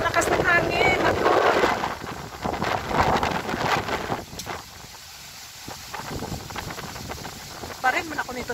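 Strong wind buffets the microphone in loud, uneven gusts, with voices talking over it at first before the roar eases somewhat.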